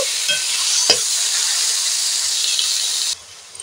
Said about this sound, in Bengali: এবার দিয়ে দেব ওই তেলেতেই পেঁয়াজের পাতাগুলোকে একটু নাড়াচাড়া করে তুলে নেব।